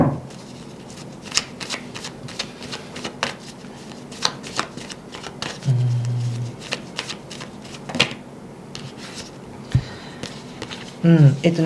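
Tarot cards are shuffled and flicked in a series of crisp, irregular snaps and riffles, close and fairly loud, with a quiet voice murmuring briefly between them.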